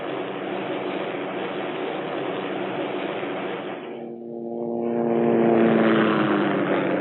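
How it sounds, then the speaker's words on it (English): A Hughes OH-6 Cayuse light observation helicopter in flight gives off a loud, steady engine and rotor drone that dips briefly, then swells back nearer and stronger. "the OH-6 is a fast, powerful, responsive, and stable aircraft"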